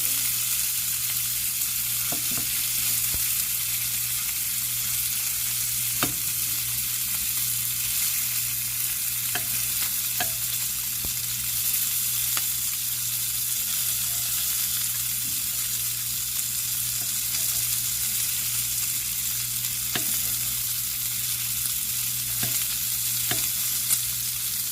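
Sausage and potatoes frying in a skillet, a continuous close sizzle of hot fat with scattered sharp taps and scrapes of a utensil cutting and stirring the food, steady and unbroken with no talking.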